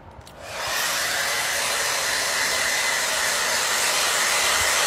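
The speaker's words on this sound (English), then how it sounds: "we're gonna put our blow dryer on hot" A blow dryer set to hot switches on after a few faint clicks and runs as a steady, loud, close whooshing roar, heating wooden moulding, with no talk over it.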